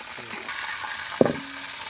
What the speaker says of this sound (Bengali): মুরগিটা উল্টেই ফুলটেই ভাজিয়ে নিতে হইবে